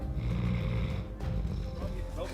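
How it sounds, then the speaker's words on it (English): A sedated black wolf snores in slow, rough rumbling breaths, loud and close, while a voice talks over it. "Snoring."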